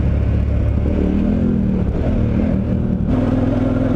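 Dual sport motorcycle on Avon TrekRider 50/50 tires (AV84 and AV85) riding a rocky trail toward a small jump: a loud, close, steady engine drone with a brief throttle dip and pickup near the end, with no talking.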